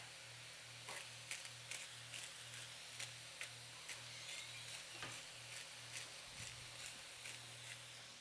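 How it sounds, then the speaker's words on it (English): Faint, steady sizzle of hamburger meat frying in a pan, with a soft repeating tick and occasional stirring clicks, no voices. "You can hear it. Can you hear it? Sizzling."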